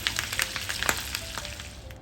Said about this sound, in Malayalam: അപ്പോൾ വലിയ ചിക്കൻ ആയതുകൊണ്ട് തന്നെ കുറച്ച് ടൈം എടുത്തിട്ടാണ് ഫ്രൈ ആവുന്നത്